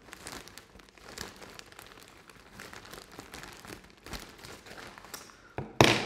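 A package is being unboxed: crinkling and rustling of wrapping with scattered taps and handling noises, ending in a sharp loud crunch or tear near the close, with no talk.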